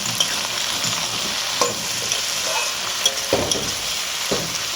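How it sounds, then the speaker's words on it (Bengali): Mixed vegetables for veg chowmein frying in a pan with a continuous close sizzle, punctuated by several scraping knocks of a spatula stirring against the metal. "এবার আমি সবজিগুলো একটু ভেজে নেব"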